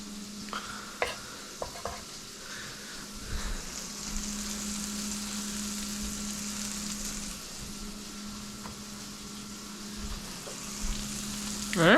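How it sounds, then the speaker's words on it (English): Aromatics frying in butter in a pan over medium-low heat, a steady soft sizzle throughout with a few light clinks and stirring sounds, quiet and close with no talk. "Let that start to fry off a little bit"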